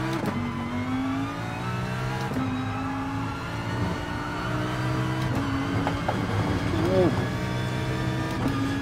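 Lamborghini race car engine in Gran Turismo Sport, a droning, revving tone that rises and drops through gear shifts on track, with someone talking over it.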